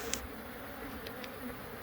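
A bee swarm inside a shed gives a brief, faint, continuous insect buzz, a low steady drone lasting under two seconds with no talk.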